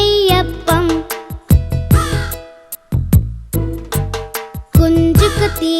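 A crow caws again and again inside a Tamil children's cartoon song: harsh, close calls in short bursts over a bright musical backing, with sung phrases between them.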